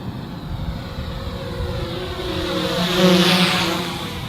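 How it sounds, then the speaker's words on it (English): A GoPro Karma quadcopter drone passes overhead, its motors a steady droning hum that swells to a peak as it crosses close above, with faint wind and no talk. "I'm gonna fly it right over us, and I want you to just listen to the motors on this thing."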